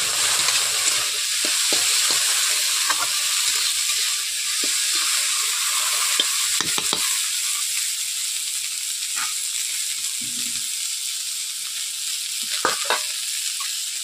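Sliced okra fries in a pan with chopped onion, a constant bright sizzle broken by scattered scrapes and clicks of a spatula stirring, close and fairly loud throughout.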